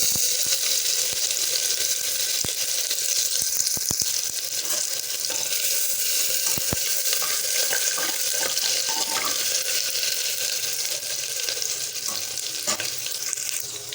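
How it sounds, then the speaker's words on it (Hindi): Ginger frying in a pan for an Odia buto dal curry, a steady dense sizzle and crackle running the whole time with a few sharp pops, close and loud, no voices. "अदा पकेबा"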